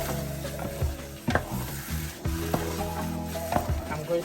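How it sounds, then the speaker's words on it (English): Egusi soup frying in a pot sizzles steadily while a utensil stirs it, scraping and knocking against the pot in irregular close taps under the continuous hiss. "I'm going to give it a good stir now so I think it's boiling, and then leave it to carry on frying"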